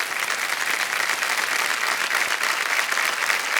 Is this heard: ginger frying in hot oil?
no